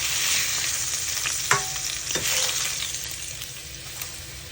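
A gourd frying in a pan while it is cooked down, a steady broad sizzle throughout with a few soft clinks of a utensil, close and fairly loud with no voices.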